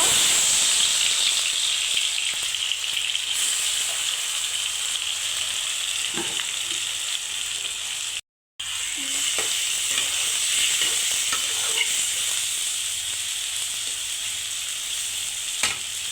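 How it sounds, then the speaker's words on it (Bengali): Chicken sizzles loudly in mustard oil in a wok, a constant frying hiss with occasional stirring scrapes and a brief dropout partway. "এখন একটি কড়াইয়ের মধ্যে সরিষার তেল দিয়ে দিব। এখন চিকেন গুলা দিয়ে দিব।"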